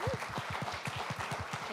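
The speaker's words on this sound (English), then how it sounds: "So another round of applause for Emiliano." An audience at a tech talk on an accessible UI kit gives a round of applause for the speaker, light and fairly sparse clapping at a moderate distance with a voice briefly heard over it.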